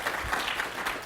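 An audience in a demoscene event hall gives a brief round of applause for a first-time entrant's production, a steady wash of many hands clapping at moderate distance.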